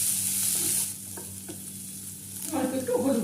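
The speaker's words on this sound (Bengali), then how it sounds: "পেঁয়াজটা দিয়ে মিডিয়াম টু হাই ফ্লেমে রেখে পেঁয়াজটাকে ভেজে নেব।" Chopped onion stir-fried in a pan over a medium-high flame for a pulao of flattened rice, with a steady close sizzle, a few spatula scrapes, and louder stirring toward the end.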